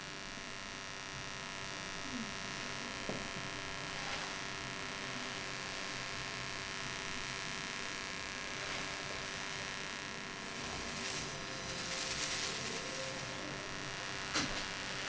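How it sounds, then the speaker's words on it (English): A small electric motor spins with a continuous, faint buzzing hum that holds steady for the whole stretch, with a few soft clicks and faint rises in pitch. "the quicker that the motor spins"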